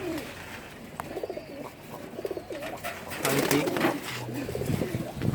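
Male pigeons in a loft, among them Pankhi birds, give repeated low, throaty coos that roll in overlapping bursts at close range, growing louder and busier toward the end over a steady hum of background noise.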